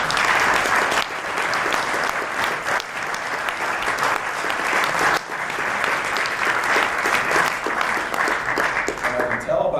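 An audience at a keynote talk applauds loudly and steadily for about ten seconds, a dense continuous clapping from a large crowd.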